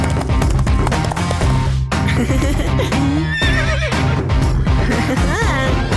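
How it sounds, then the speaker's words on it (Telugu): A cartoon horse neighs and whinnies repeatedly over galloping hoofbeats, loud and close, layered with a busy animated soundtrack. "అదిగో శివ చూడు, గుర్రం మీద స్వారీ చేస్తున్నాడు"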